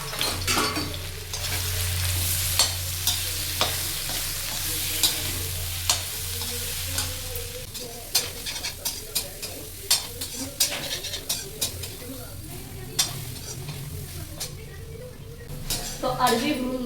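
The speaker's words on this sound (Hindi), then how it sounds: "और इधर ना मेरा तेल भी गर्म हो गया है, तो अब इनको फ्राई कर लेती हूँ।" Taro (arbi) leaves fry in hot oil in a kitchen pan, a steady close sizzle with repeated scraping stirs and clinks of a utensil against the pan, and a voice speaks briefly.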